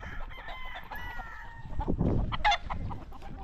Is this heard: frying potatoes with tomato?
no